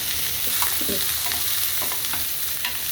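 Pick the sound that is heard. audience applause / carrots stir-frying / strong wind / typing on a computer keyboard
carrots stir-frying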